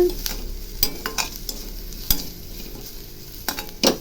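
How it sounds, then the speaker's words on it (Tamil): Papad and grated coconut dry-frying in a pan under a spoon, with a steady run of close scrapes and clinks against the metal at an irregular rhythm over a light sizzle, with no voices. "நல்லா இதை மிக்ஸ் பண்ணி நல்லா ட்ரையாக ஃப்ரை பண்ணிடுங்க"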